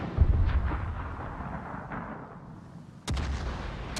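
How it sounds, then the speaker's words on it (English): Warship naval guns fire in a video game match, two heavy booming salvos with rumbling decay, the second sharper and louder, heard alone at moderate level. "there's a lot of big shots coming in towards the St. Vincent of YYUT"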